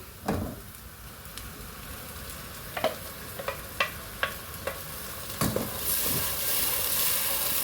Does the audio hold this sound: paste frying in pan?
yes